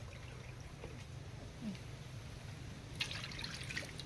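Water trickles and pours softly into a container, faint and steady, with a brighter splashing burst near the end.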